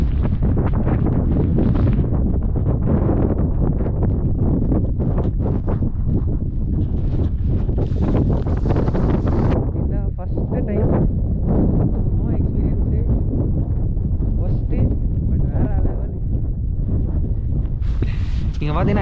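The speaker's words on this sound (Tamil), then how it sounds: "நீங்கள் பார்த்தீங்கன்னா விண்டு அடிக்குது." Strong wind during a snowstorm in Canada roars and buffets the microphone nonstop, a loud, rough rumble with gusty swells throughout.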